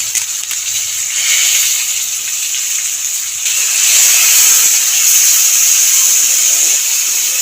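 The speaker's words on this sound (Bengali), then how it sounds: "নেড়ে চেড়ে মশলাটাকে ভালো করে কষিয়ে নেব।" Ground coriander, turmeric and hot chilli powder sizzling in a pan for a Bengali bean, potato and bori curry, a steady close hiss that swells louder partway through.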